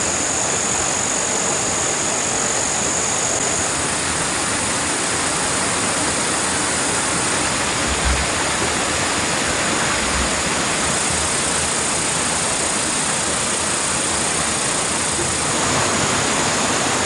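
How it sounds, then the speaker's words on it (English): Water rushes continuously and loudly from a fish pond waterfall into a stream, a dense, steady roar close up with no talking. "Purifying the tools in the stream, Xiaofan"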